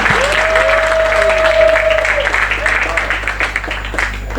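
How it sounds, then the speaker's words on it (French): An audience at an awards ceremony applauds, a dense, steady wash of clapping over a short stretch, with a tone sounding briefly near the start. "Je vous en prie, vos acclamations."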